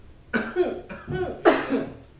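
A person imitates choking on a drink, letting out several harsh, close coughing bursts one after another, with a throaty clearing sound between them.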